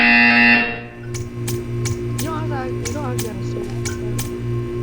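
A loud, steady electronic buzzer in the Portal 2 video game sounds for under a second and cuts off abruptly. It is followed by quieter rhythmic clicking and a low hum under a faint voice.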